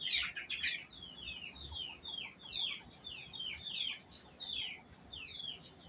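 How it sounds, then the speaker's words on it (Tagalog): Chickens clucking and chirping in a steady run of overlapping calls, moderately loud and close, with no talking. "Yan mga manok namin."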